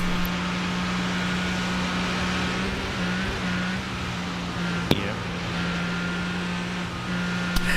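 Race car engine at the Nürburgring Combined layout in the iRacing simulator, a steady loud drone holding throttle with small pitch shifts, plus a couple of sharp clicks.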